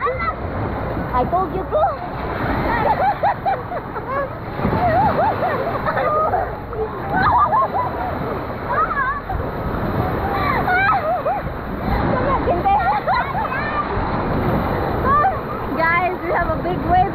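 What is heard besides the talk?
wave pool waves splashing at a water park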